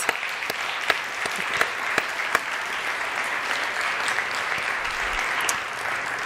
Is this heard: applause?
yes